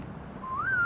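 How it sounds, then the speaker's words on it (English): A short rising whistle in a song, gliding upward and then holding a steady tone over the music for under a second. "Nice little whistle."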